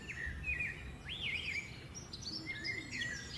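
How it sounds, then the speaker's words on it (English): A green bird calls with several clear, warbling whistled phrases that rise and fall, fairly close, over a steady low background hum. "It's a bird. Yes, it's a bird."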